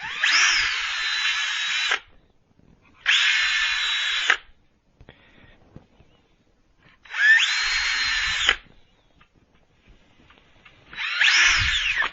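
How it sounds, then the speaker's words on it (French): Power drill boring small holes through a wooden board for a vegetable garden bed frame, in four loud, close whirring bursts of one to two seconds each, with quiet pauses and faint handling sounds between them. "je refais quelques petits trous juste pour percer la planche"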